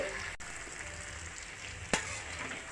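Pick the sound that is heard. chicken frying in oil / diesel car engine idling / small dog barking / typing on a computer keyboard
chicken frying in oil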